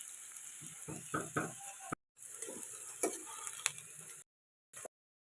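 Potatoes fry in oil in a kadai with a steady, quiet sizzle, broken by a few scraping stirs and clicks, before the sound cuts out twice near the end.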